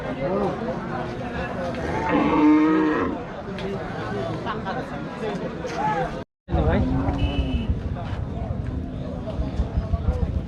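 A Sahiwal calf lets out a few low, drawn-out moos over a busy outdoor cattle market crowd in Rajshahi with people talking nearby.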